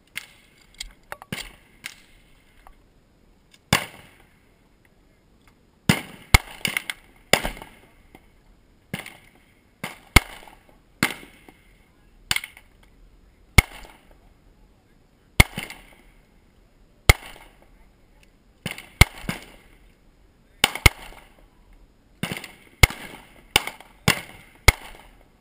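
Sharp gunshots from a Beretta PX4 Sub-Compact .40 caliber pistol at an outdoor range, fired in irregular bursts and single shots with short pauses, each crack loud and abrupt with brief decay.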